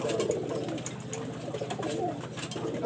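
Domestic Teddy-type fancy pigeons at a Bangladeshi pigeon seller coo nearby in a steady, overlapping stream of low throaty pulses, with occasional brighter chirps and wing or cage noises throughout.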